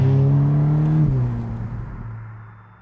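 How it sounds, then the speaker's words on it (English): A new Ferrari Roma Spider convertible with a 612bhp front engine drives past in Sardinia, its loud engine note holding a steady tone, then dropping in pitch as it recedes and fades away over a few seconds. "we're in a brand new Ferrari convertible in Sardinia"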